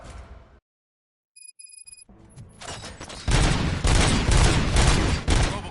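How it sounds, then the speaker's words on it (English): Rapid bursts of gunfire in the RoboCop: Rogue City video game erupt after a brief silence and a few electronic beeps, growing into a loud, sustained fusillade. "Gunshots? What's going on?"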